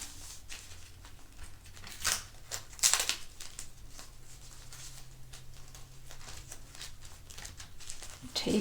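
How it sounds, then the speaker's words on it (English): Adhesive tape pulled and pressed onto a fleece scarf during crafting, giving a few short, close ripping and crinkling bursts amid quiet handling noise. "taping it like this"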